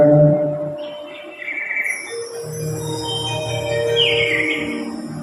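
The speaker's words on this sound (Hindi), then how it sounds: "चिड़ियाएँ चहचहा रही हैं, सब कुछ शुभम ही शुभम है" Several birds chirp and trill in short bursts, mixed with sustained tonal music and soft low notes. The sounds are moderately loud and fairly close.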